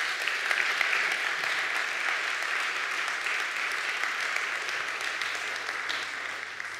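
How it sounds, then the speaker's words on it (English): Sustained audience applause for a Member of Parliament as she is introduced at a morning talk on climate justice. A dense, steady wash of many hands clapping fills the whole stretch at even loudness, with no voices. "Let's give a round of applause for Caroline."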